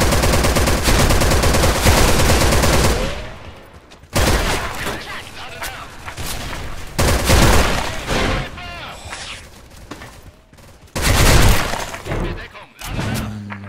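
Grenade blast and dense rapid gunfire in the online shooter Special Force 2, loud and near, with repeated bursts and breaking-glass crashes, a brief lull after the first blast and renewed volleys later.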